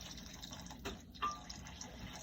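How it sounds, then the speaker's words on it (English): Fake beef broth poured into a cooking pot, a short steady liquid gush and fill heard close and fairly quiet, with no talk over it. "I'm taking this fake beef broth and pouring it in here"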